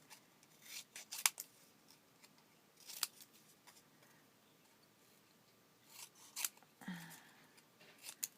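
Scissors snipping a playing card during trading-card crafting, heard as several short, scattered crisp snips and rustles, fairly quiet, with no talk.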